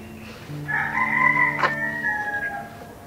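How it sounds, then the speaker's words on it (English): A rooster crows once, a long ringing call, close and clear over a quiet background. "I can literally hear the sound of the birds."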